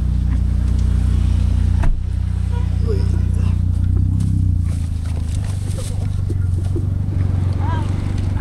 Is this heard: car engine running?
yes